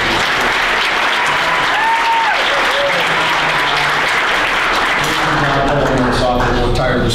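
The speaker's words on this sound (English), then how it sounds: "can I get another round of applause for Kathy?" A large crowd at an evening awards event claps loudly and continuously for an organizer, a dense, sustained round of applause across seven seconds, with cheering and a voice starting to talk over it near the end.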